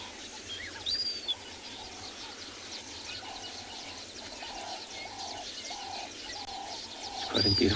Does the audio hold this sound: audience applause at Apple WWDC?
no